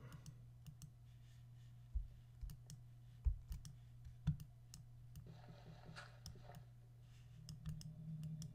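Mouse clicks placing blocks in the MinecraftEdu video game, a handful of sharp, isolated clicks spaced irregularly over a steady low electrical hum, close and fairly quiet with no talking.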